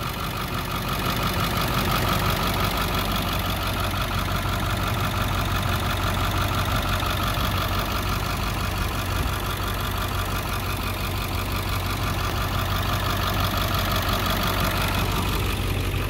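An old school bus engine, sitting unused since 2020, idles after being started on a new battery, a loud steady mechanical rumble with a rhythmic knock that stays constant throughout.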